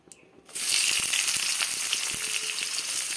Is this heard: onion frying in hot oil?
yes